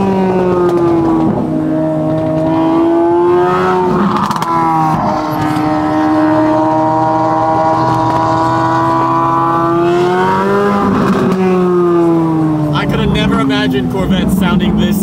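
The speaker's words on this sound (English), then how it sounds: "Corvette sounding this good" A Corvette idles and revs nearby with a deep, steady engine hum that swells and falls in pitch as the throttle opens, while people talk over it.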